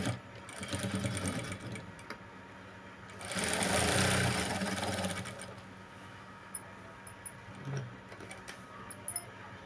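A sewing machine stitches along the edge of a lined blouse, running in close, loud mechanical bursts with a strong whirring stretch in the middle, then quieter clicks and pauses.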